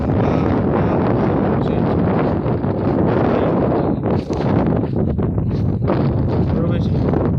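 Strong wind blows across open farm fields, a steady loud rush buffeting the microphone throughout, with gusts swelling and easing.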